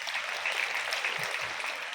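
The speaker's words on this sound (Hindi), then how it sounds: "हमारे स्कूल कैप्टन के सुंदर वक्तव्य के लिए जोरदार तालियां" Students and staff at a school Republic Day programme clap for the school captain's speech, a continuous, fairly loud burst of applause from a crowd, with faint murmuring underneath.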